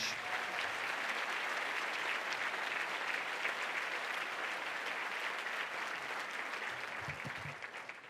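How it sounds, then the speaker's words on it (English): A large audience at a city State of the City address applauds for H. Spees, a steady, dense wash of clapping that carries on for several seconds before fading slightly at the end. "let's give H. Spees a round of applause"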